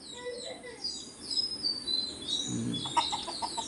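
Chickens cluck and chirp softly nearby on a small poultry farm, a few short calls over quiet background murmur.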